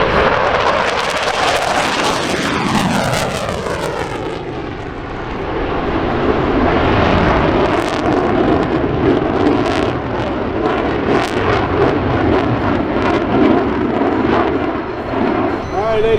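An F-15 Eagle fighter jet makes a high-speed low flyby at an air show at Dover AFB, a loud roaring jet rush with a sweeping pitch shift as it passes, then a sustained rumbling roar.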